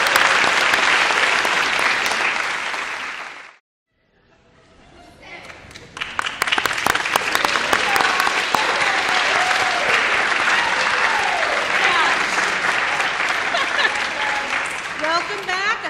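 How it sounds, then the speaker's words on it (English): A large audience gives a round of applause for ten contest finalists, loud sustained clapping that drops to silence, then returns full with cheers and voices mixed in. "much-deserved round of applause"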